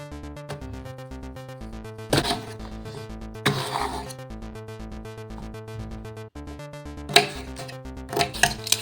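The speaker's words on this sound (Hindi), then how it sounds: "अब हम सब्जियों को चॉप कर लेंगे।" Several bursts of knife chopping onion, ginger, garlic, green chili and carrot on a board, irregular and brief, heard under steady background music.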